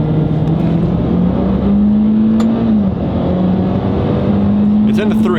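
A Mitsubishi Lancer Evo 10 pulls hard in second gear, its engine a loud, close, steady drone that climbs in pitch, eases briefly, then climbs again through the run.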